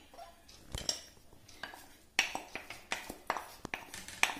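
Utensil stirring milk pudding in a heavy pot on a stove, with irregular metallic scrapes and taps against the pan, close and fairly quiet, with no talking.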